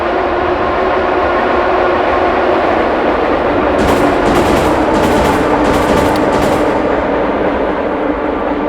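A train rumbles past on a custom cemetery map in a video game, a loud steady roar with a run of rhythmic clattering bursts in the middle.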